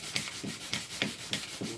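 Harmonica slider underside being hand-sanded with sandpaper, a close, rhythmic scratchy rubbing in about six even back-and-forth strokes.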